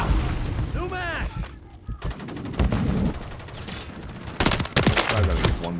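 Loud bursts of automatic gunfire and explosions in Modern Warfare 3, dense rapid shots in several clusters, with a voice speaking over the start of the action.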